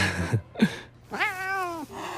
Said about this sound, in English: he sees a big, strong cat fiercely attacking the vines that entangle his body and tail